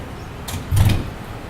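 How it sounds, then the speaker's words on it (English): A door swings shut over a TRX suspension strap anchor, a brief sliding scrape followed by a dull thump close by, with no talking. "You'll close the door."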